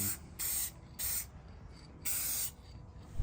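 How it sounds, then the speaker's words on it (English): Three short hissing bursts from a spray can of glossy clear coat over a custom soccer logo, with quiet pauses between them, close by. "I'm going to spray it down with some glossy clear coat"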